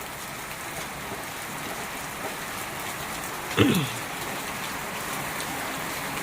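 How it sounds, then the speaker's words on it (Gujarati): Steady rain hisses evenly throughout in a village, with a single brief thud partway through and no one speaking. "વરસાદ એક સરખો આવ્યા રાખે છે"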